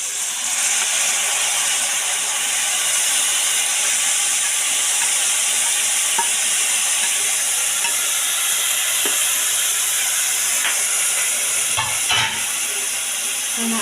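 Cut bitter gourd dropped into a hot pan with onion and green chilli for a Kerala thoran, giving a loud, continuous, close sizzle and hiss throughout, with a couple of brief stirring clatters near the end.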